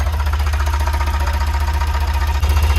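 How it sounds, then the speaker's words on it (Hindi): A Tata Intra V10 mini truck engine idles steadily just after starting, with a loud, even low rumble and rapid rhythmic knocking pulses, close by, with no talking. "तो फाइनली आप देख सकते हैं गाड़ी हमारी स्टार्ट हो चुकी है, बिल्कुल एक्यूरेट स्टार्टिंग है।"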